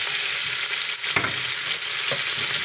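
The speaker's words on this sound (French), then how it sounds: "Maintenant, je mets les oignons et de l'ail." Onions and garlic frying with cabbage in a pan, a loud, steady close sizzle with occasional scraping strokes as the mixture is stirred.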